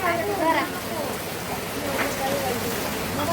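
Steady rain falls on an open farm field, a continuous hiss of drops that stays even throughout, with people talking over it.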